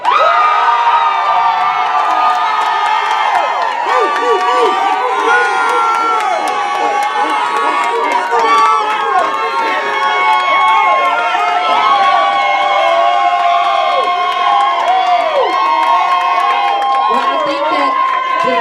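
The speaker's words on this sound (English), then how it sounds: "Give a round of applause for vintage." Crowd at a deal-winner announcement event cheering and whooping loudly, with shouts and applause mixed in, continuous throughout with voices calling out over the din.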